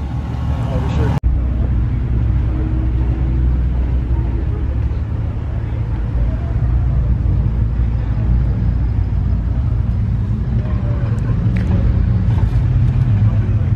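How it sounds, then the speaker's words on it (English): A supercharged Jeep drives on winter roads, its engine and tyre rumble steady and loud from inside the cabin, with a brief clunk near the start. "Got a supercharged Jeep."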